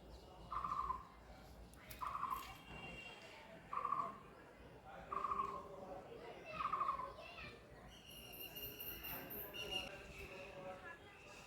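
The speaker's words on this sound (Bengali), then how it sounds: "একটা পাখি ডাকছে, দেখো কোথায়" A bird calls five times in an even rhythm, about a second and a half apart, followed by softer chatter and voices nearby.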